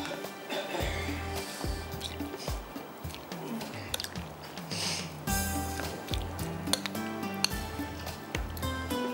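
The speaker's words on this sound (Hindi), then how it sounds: "दही भी आप इसमें डाल दीजिएगा। अच्छी तरह से मिक्स करेंगे" Yogurt being stirred into a cooked whole moong lentil mixture gives soft, wet squishes and irregular clicks of a spoon against the pot, quiet and close, with no talking.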